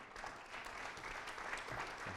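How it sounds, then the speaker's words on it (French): Audience applause welcoming Meka Brunel, director general of Gecina, at a Global Cities Makers conference: a faint, distant, continuous patter of many hands clapping in a hall, steady and low in level. "je vous demande d'applaudir et d'accueillir Meka Brunel"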